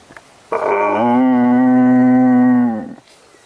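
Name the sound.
toy noisemaker imitating a cow mooing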